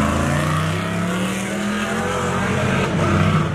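Cadillac Escalade engine revving nearby outside a car wash, a loud sustained roar that swells slightly toward the end.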